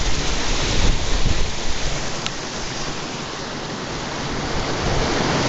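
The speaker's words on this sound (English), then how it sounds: "we're getting down here close to the stream" A stream flows near a canal culvert along a woodland trail, a steady close rushing wash of water that swells slightly early on and then holds even, with no voices.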